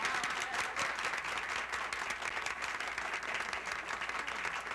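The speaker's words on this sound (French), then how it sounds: "vous pouvez l'applaudir, votre Pro-maire" Steady applause from an audience at a Canadian folk evening in St-Jean-Port-Joli, greeting the pro-mayor; a dense, even wash of many hands clapping at moderate distance, continuous throughout.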